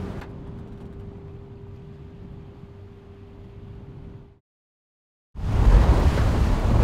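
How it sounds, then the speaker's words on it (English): Wind and waves wash around a sailboat at sea in light winds as a steady rushing hiss with a low hum, then a brief silent gap, then a louder, closer surge of wind and water. "Sails are up, winds are light, but we should have some wind today."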